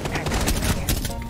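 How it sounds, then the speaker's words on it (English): Rapid gunfire in Rainbow Six Siege, a dense burst of sharp shots rattling continuously for a moment, loud and close. "That was a gun."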